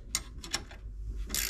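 A ratchet tightens bolts on the shock mount of a Honda Rubicon or Foreman ATV, giving a short run of close, crisp clicks over a low background rumble.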